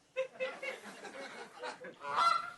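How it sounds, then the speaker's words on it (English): A honking, squawking jungle bird call sound effect, a short run of loud nasal calls from close up, ending on a longer rising squawk. "There it is, the sound of a jungle bird, everybody."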